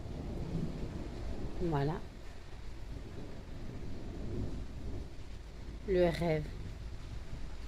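A thunderstorm rumbles as steady low rain and distant thunder wash under the whole stretch, with someone briefly speaking French twice over it.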